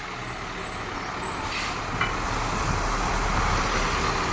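A Two Men and a Truck moving truck pulls away from a residence on moving day, a moderate engine rumble and road noise passing at middle distance, with a faint air-brake hiss in the middle and no voices.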